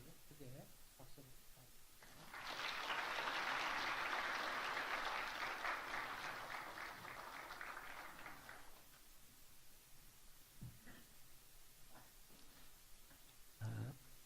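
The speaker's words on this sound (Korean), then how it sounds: "크게 박수로" Brief talk gives way to a loud swell of congregational applause during a Korean church worship service; the clapping holds for about six seconds, then tapers off, and speaking resumes over quiet room noise.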